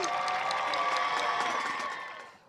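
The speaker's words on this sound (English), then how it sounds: "Please give these young ladies a big round of applause." Crowd applause and cheering at a high school football game as a girls' relay team is honored, a dense, even roar of clapping that fades out near the end.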